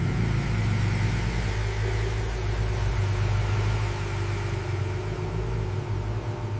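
A Ford Mustang GT engine rumbles continuously at a steady low pitch, loud and close, with no voices over it.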